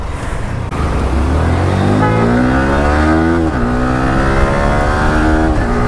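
A Yamaha R15 motorcycle engine revs continuously while riding on Airport Road, its pitch climbing steadily through the gears, dipping at a shift, then rising again, loud and close with wind and road noise and no talking.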